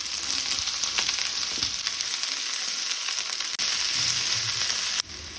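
Two chopped onions and garlic cloves frying in two spoons of oil, a dense steady hiss of sizzling with faint scraping, close up, dropping briefly near the end.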